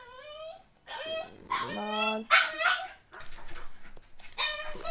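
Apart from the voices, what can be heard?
dog whimpering and crying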